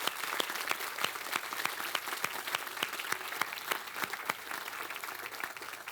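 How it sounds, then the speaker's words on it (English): Audience applause at BridgeFest, a steady wash of many hands clapping with sharp individual claps standing out, sustained at even strength for the whole stretch with no voices over it. "So can we just have a round of applause for Preston Bridge for doing that?"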